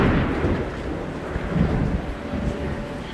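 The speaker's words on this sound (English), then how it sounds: "You guys just hear that storm coming down on us?" Thunder from a storm rumbles low and heavy around an abandoned prison, with rolling swells of sound over steady background noise.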